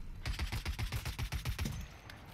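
Rapid automatic fire from a tactical assault rifle in the video game Blacklight: Retribution, a steady loud burst of about a dozen shots that stops abruptly and gives way to quieter game sounds.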